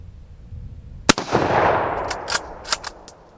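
A Mosin Nagant 91/30 rifle fires one sharp, loud shot followed by a long rumbling echo, then several quieter sharp clicks and clacks of handling.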